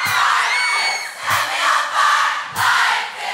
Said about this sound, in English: Let me hear you sing it, Salt Lake